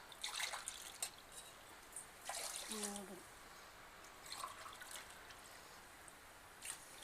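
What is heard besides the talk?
water poured onto rice in a pot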